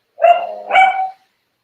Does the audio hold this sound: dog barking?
yes